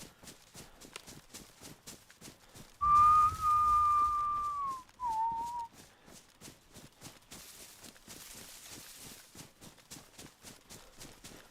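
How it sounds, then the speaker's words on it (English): A person whistles over the radio in the DayZ video game: one clear sustained whistled note that bends downward and breaks into a short second phrase, heard over steady rhythmic footsteps. "I like to whistle on the radio sometimes to see what people do"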